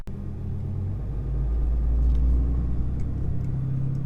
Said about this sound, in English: I can tell a huge difference in the noise that my truck makes